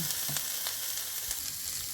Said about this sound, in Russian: И пока обжаривается лук